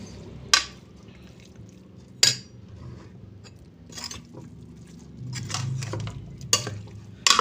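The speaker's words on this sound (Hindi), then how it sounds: "अच्छी तरीके से इसे मिक्स करके हमने इसको फिर दम पे रख लेना है।" A spoon stirs aloo qeema (spiced potato and minced meat) in a cooking pot, giving sporadic sharp metallic taps and scrapes with soft shuffling of the mixture between them.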